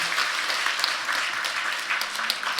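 A congregation applauding during a Sunday church service, dense continuous clapping from a crowd in a hall, steady and moderately loud throughout.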